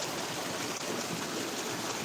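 Glacier meltwater stream rushing steadily from a mountain peak, a close, loud, continuous broadband roar of flowing water with no pauses.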